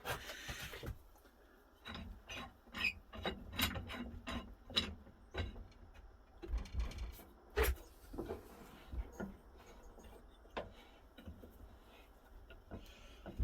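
A clamp is tightened while holding down a Honda Z50 motorbike, producing a close series of irregular, sharp mechanical clicks and ratcheting ticks with short pauses between them.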